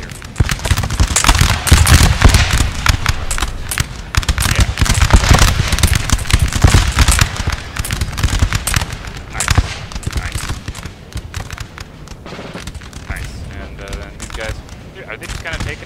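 Musket volleys and cannon fire crackle in dense, rapid bursts during a Napoleon: Total War battle between France and England, Austria and Prussia, a loud continuous battle din with someone talking over it.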